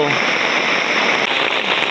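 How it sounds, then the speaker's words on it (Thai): Steady rain falling, a dense continuous hiss close by and unbroken for the whole short stretch. "ฝนตกเป็นชั่วโมง2 ชั่วโมงแล้วยังบ่เศร้า"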